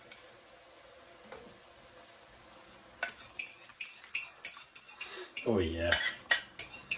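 Spaghetti carbonara with egg and pecorino cream is stirred in a pan after a quiet start, then comes a run of clattering utensil knocks and scrapes against metal with a soft sizzle and a short spoken remark.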